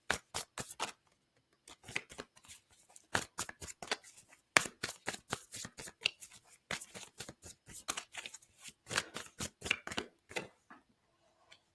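A deck of tarot cards is shuffled by hand up close in a quiet room: rapid riffling bursts and crisp flicks repeat in quick rhythmic runs with brief pauses between them. No voices are heard.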